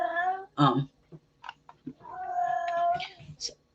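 A cat meows up close with drawn-out, tonal calls, mixed with short yowls and scattered small noises between them.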